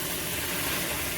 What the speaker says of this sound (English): And now we'll add boiling water into this.